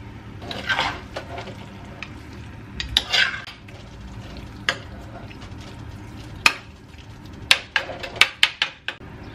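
Chicken with salt is stirred in a clay pot: soft rustling scrapes give way to a run of sharp, irregular clacks and knocks from the spoon against the pot, close and distinct, with no speech.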